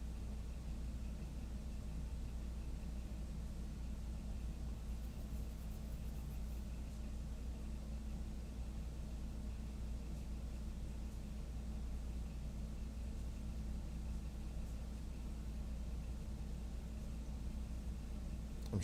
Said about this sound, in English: I'm hearing a lot of traffic in the house.